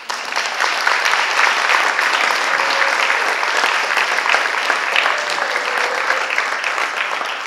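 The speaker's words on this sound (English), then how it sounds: "I want us to give another round of applause." Sustained audience applause at an AAPI panel event, a dense, steady clatter of many hands clapping close by for the full stretch without letting up, with no voices over it.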